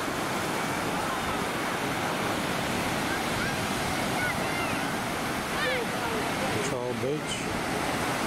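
Ocean surf rolls steadily at Agnus Water main beach on the east coast, a continuous broadband wash of breaking waves with wind buffeting the microphone and a few faint bird calls near the end.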